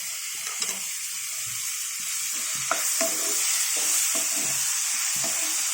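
Chopped tomatoes sizzling and frying in a pan while being stirred, for a Telugu raw mango and sesame chutney, a steady soft crackle with occasional spoon scrapes and taps.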